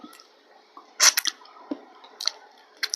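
Someone chewing a fresh fig up close, the seeds crunching: soft wet squishes and small sharp crackles in irregular bursts, with quiet pauses between bites.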